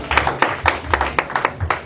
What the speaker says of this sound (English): Why don't you just give the Lord a round of applause and be seated?